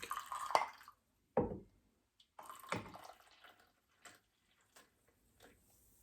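Water is poured into a spoon in a few short bursts, wet trickles and drips separated by silence, close and faint.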